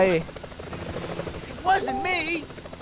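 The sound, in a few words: helicopter in the video game Spider-Man 2000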